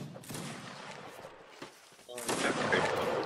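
Cannons fire in Mount & Blade Warband's Napoleonic Wars mode, sharp booming blasts that stand out over a background of battle noise and muffled voices, with a heavier volley near the end.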